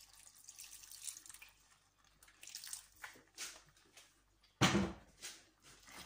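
Water is poured from a tap or jug into a pot of kidney beans for soup, a splashing pour that comes in twice, the louder burst near the end, with quiet pauses between.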